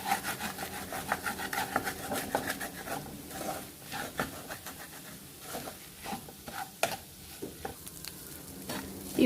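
A spatula stirs an egg and rice mixture in a hot pan for a quick lunch-box dish. Irregular scraping and rubbing strokes sound close up over a steady sizzle, with no one talking.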